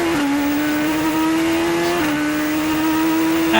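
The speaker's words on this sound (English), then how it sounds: "now you're on the gas now, flat out, all the way through Woodcote" A Formula One car at Silverstone running flat out through Woodcote in 2006 GP Masters qualifying: a loud, close, high-pitched engine whine held near steady, with a slight dip in pitch, no talk.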